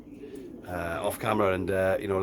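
A racing pigeon coos in low, rolling, throaty bursts while being held in the hand, close up, with someone speaking over it.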